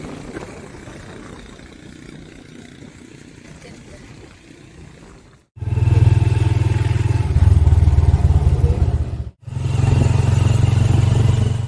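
A tricycle, a motorcycle with sidecar, idles loudly and steadily close by with a deep, throbbing engine rumble, cut off briefly once, after a stretch of quieter outdoor background with some talk.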